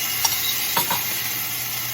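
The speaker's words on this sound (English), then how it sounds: "now I'm gonna add in some garlic" Garlic going into onions already sautéing in a pan: a steady close sizzle with a few soft stirring scrapes, loud and continuous, no talk.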